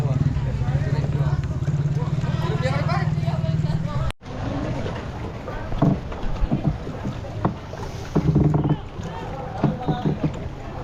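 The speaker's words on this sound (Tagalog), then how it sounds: "Puro bangka na lang dumadaan dito." Boat engines drone steadily on floodwater in Masantol and Macabebe with wind buffeting the microphone, and people talk intermittently over the noise.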